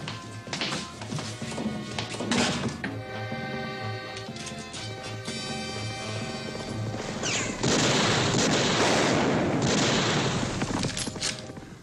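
Sustained rapid gunfire crackles under a loud, dense battle din, with a heavier burst of shots and booms in the second half.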